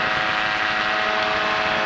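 A Kolb Firestar 2 ultralight aircraft with a Yamaha Phazer engine drones steadily and loudly at close range, giving a continuous, buzzing engine whine with no breaks.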